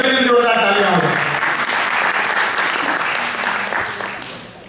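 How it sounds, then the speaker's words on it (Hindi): Loud, dense audience applause at a Holi celebration event, steady for several seconds before tapering slightly, with a voice briefly audible near the start. "एक बार उन बहनों के लिए जोरदार तालियां हो जाए।"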